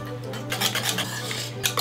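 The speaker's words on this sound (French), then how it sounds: "Cuillère plonge, petit fouet et on mélange." A small whisk stirs a cake mixture in a saucepan, giving quick, close metallic clinks and scraping taps against the pan in an uneven rhythm, with no talk.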